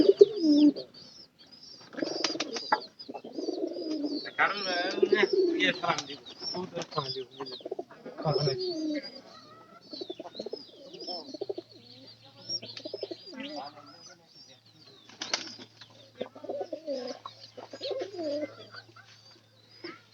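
Soft pigeon coos come and go close by, mixed with intermittent talking and a faint low hum in the later half.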